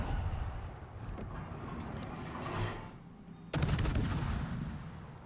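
Warship guns firing in the naval game World of Warships, a muffled boom followed by a sudden heavy salvo with a rumbling tail, over continuous engine and ambient game noise, no talk.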